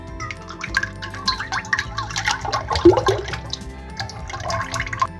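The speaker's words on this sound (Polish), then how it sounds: "Do misy miksera wlewamy 500 ml śmietany kremówki" About 500 ml of heavy whipping cream poured into a stand mixer bowl, a soft, uneven liquid gurgle and splash that continues steadily for several seconds at close range, with no talking.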